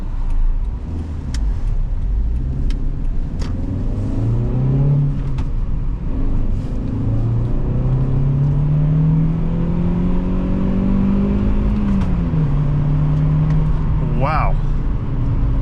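A 2006 Toyota Matrix XR accelerating from inside the cabin, its engine note rising through gears with rhythmic sweeps and a shift pause, loud and close, with wind and road hum beneath and occasional talking.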